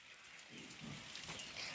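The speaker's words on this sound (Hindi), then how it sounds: "आज हम लोग स्कूल से आए हैं तो बारिश हो रहा है" Steady rain patters softly outside, a faint continuous hiss of drops falling on a surface.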